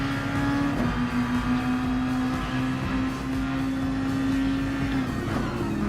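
A race car engine in Gran Turismo Sport holds a steady, droning high-rev note with throttle kept open, loud and continuous with slight pitch shifts as the car runs on.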